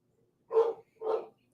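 A dog barks twice, two short, moderately loud barks about half a second apart against a quiet indoor background.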